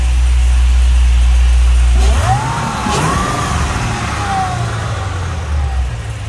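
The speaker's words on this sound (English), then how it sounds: "that Supercharger sounds so nice" A supercharged 2013 Cadillac CTS-V wagon with a six-speed manual runs loud and close, a heavy low rumble that drops into a settled idle with a rising whine over it.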